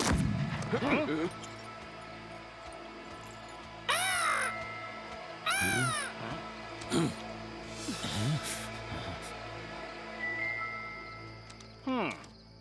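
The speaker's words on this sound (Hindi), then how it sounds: "वो तोता था।" A parrot in an animated cartoon squawks in several harsh, raspy calls. The calls come in short bursts spaced a few seconds apart, loud and close against a quieter background.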